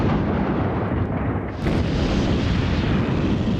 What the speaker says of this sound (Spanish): y 500 morteros dispararon simultáneamente por todo el frente